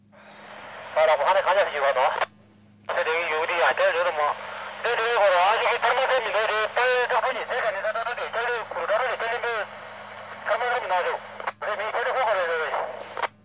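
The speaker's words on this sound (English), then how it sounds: "Here is our first radio communication with Ben after his first summit attempt" A crackly, band-limited two-way radio voice transmission carries between a mountaineering base camp and a climber. Fast speech runs nearly continuously over a steady low hum, with a couple of brief dropouts.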